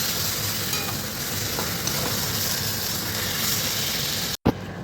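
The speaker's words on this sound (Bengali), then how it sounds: "এবার এর মধ্যে দিচ্ছি চিকেনটা ভালো করে নাড়াচাড়া দিই" Chicken is stirred into fried spice paste in a pan, a steady close sizzle with some soft stirring scrapes. A brief dropout and a thump come near the end, and no one speaks.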